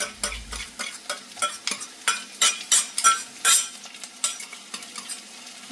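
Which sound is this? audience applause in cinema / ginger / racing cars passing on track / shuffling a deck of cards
ginger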